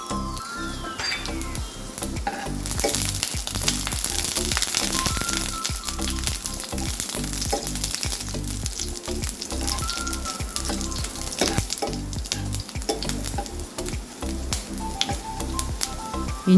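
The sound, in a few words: ginger pieces frying in coconut oil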